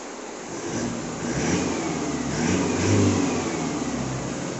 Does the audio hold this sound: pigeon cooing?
no